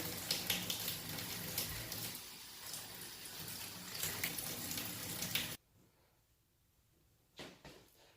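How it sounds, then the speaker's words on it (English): Water runs steadily from a tap while a tub is rinsed out, a fairly loud, continuous gush that stops suddenly partway through and leaves near silence broken by a brief clatter. "Got the tub rinsed out"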